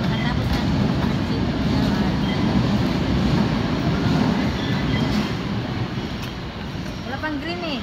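A light rail transit train rumbles past loudly and steadily nearby, with a rolling roar and screeching wheel tones near the end.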